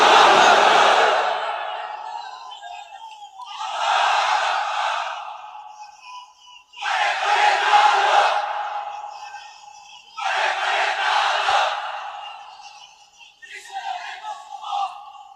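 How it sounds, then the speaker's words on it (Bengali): A large gathering at an Islamic sermon shouting the takbir in unison, four or five loud massed call-and-response bursts separated by short pauses, with a leader's voice starting each round. "তাকবীর পড়েন তো দেখি।"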